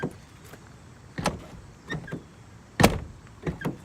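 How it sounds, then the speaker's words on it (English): The driver door of a daily-driven car is worked, with a series of separate clunks, clicks and latch knocks spread across a few seconds, including one solid thud. The sounds are close, with quiet background between them. "I'm gonna open up the driver door"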